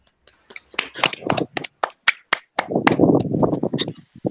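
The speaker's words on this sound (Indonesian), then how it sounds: "Tepuk tangan untuk kita semuanya." A class of students claps in short, uneven bursts with separate sharp hand claps, mixed with voices nearby.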